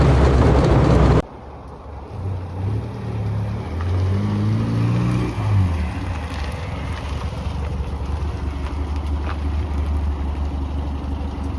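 A Morris Minor 1000 van engine drones steadily at low pitch during a road drive, heard from inside the cab with rushing wind noise, after a brief loud burst at the very start.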